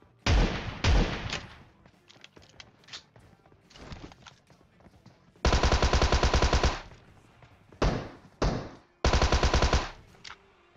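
Gunfire in PUBG Mobile, with the player firing a shotgun during a match: several loud rapid bursts of shots at close range, separated by quieter gaps holding faint footsteps and game sounds.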